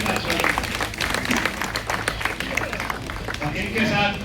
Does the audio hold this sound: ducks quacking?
no